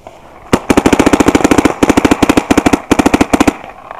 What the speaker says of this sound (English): Start shooting at that bunker.